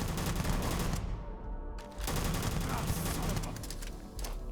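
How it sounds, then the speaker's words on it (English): Sustained video game gunfire, a dense rapid stream of shots that continues almost without pause and briefly drops away once in the middle. "shoot Sam as well. Shoot everybody"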